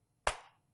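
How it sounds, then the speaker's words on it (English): A single sharp hand clap, close and clean, fading quickly into quiet. "I can clap."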